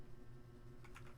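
A few quick, faint keystrokes tap on a computer keyboard near the end, over a steady low room hum.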